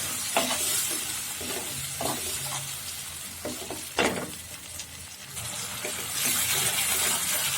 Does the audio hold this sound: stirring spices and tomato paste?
yes